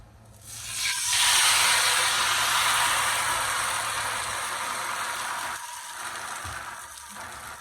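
Batter for Vietnamese bánh xèo hits a hot frying pan and erupts into a loud, steady sizzle that slowly fades a little, with a brief clatter near the end.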